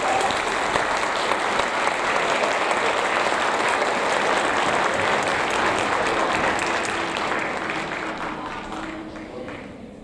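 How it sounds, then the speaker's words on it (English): At a 7th grade awards ceremony, parents and students applaud award-winning students with sustained, dense clapping that fills the room, thinning slightly toward the end. "let's give them a round of applause"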